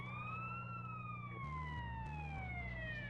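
An ambulance siren in the video game GTA San Andreas wails in a long sliding tone over a rumbling engine drone, loud and close, with the engine note stepping up and down underneath.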